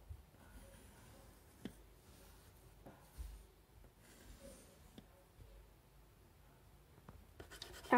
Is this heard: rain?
no